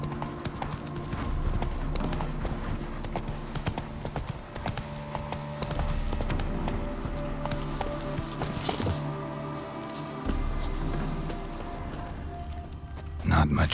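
Roach, the horse in The Witcher 3 game, gallops with a fast, steady clip-clop of hooves that runs throughout. Voices and game sounds are heard along with the hoofbeats.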